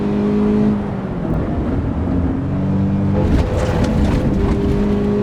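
Race car engine in AC EVO, driven in VR, holding a steady droning rev with layered harmonics that shift slightly as the car works toward second gear, continuous and close with no voices.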